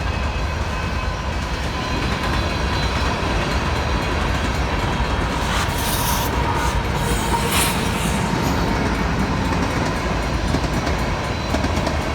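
A Union Pacific freight train led by an AC6000 rebuild rumbles past close by in Elgin, Illinois, steady and loud throughout, with wheels rolling over the rails and a few brief metallic squeals.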